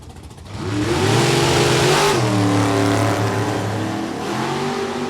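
Pontiac GTO and a 1963 Corvette split-window launch in a drag race at Beech Bend Raceway, engines roaring loud and close with rising, shifting revs and a brief dip before pulling hard again.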